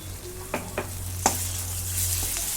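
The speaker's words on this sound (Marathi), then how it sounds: "आलं लसूणची पेस्ट टाकून घेते" Ginger-garlic paste goes into a pan of fried onion and sizzles softly, with a few sharp clinks and scrapes of a spoon stirring near the start, over a low steady hum.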